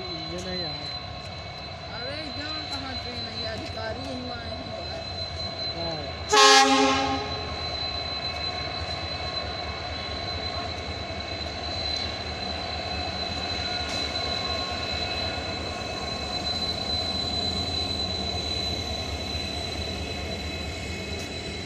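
A CRS special train arrives at Gola Gokarannath railway station with a continuous rolling rumble, broken by one sharp, loud horn blast partway through, while voices murmur faintly in the background.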